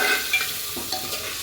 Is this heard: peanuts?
yes